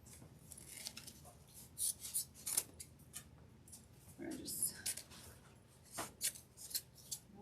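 Scissors snip and trim deco mesh for a fall wreath, a series of short crisp cuts and rustles spread unevenly across the clip, close and moderately quiet.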